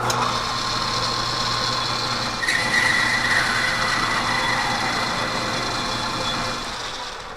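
A metal lathe faces a part with carbide cutters, a steady mechanical hum with a thin high cutting whine that enters midway and holds, then the machine sound tapers off near the end; no talking.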